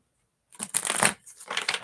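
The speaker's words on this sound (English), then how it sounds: "I'll shuffle the deck." A deck of cards is shuffled close by after a moment of silence, giving two quick bursts of riffling flutter.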